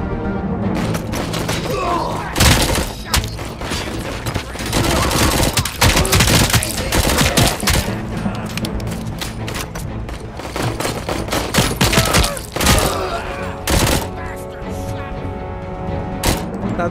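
Rapid SMG bursts ring out repeatedly in RoboCop: Rogue City, loud and close, mixed with booms, thuds and game voices speaking between the volleys.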